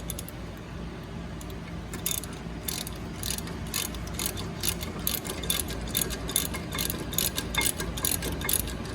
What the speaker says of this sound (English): we're going to tighten them down with our 19mm socket